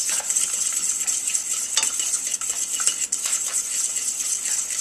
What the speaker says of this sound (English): So now I'm going to start mixing it into my boiling liquid.